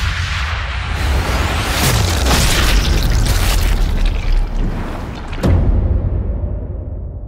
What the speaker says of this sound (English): Sounds like a big gun.